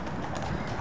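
Horse hooves clip-clopping in New York's Central Park, where tourist carriage horses circulate; a short, fairly steady run of clops set against broad outdoor noise, with no speech.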